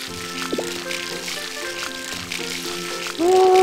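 Water splashes and trickles from a watering can over crops in Harvest Moon: Light of Hope, a few soft pouring bursts over game music, ending with a brighter chime.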